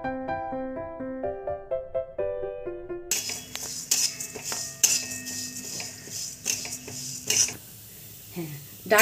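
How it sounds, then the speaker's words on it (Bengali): Moong dal stirred and fried in ghee, with metal utensil clinks and scrapes against the pan over steady background music, faint sizzling underneath. "এরপর এটা এই ঘিটার মধ্যে আমি মুগ ডালটা দিয়ে দেব, ভালো করে নাড়াচাড়া করে, হালকা ভাজা গন্ধ না বেরোনো পর্যন্ত নাড়াচাড়া করতে থাকবো।"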